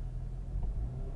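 A Jeep Grand Cherokee engine with a new coil idles and runs with a steady low rumble, stumbling and misfiring with uneven dips and surges in its note, close to the microphone and with no talk over it.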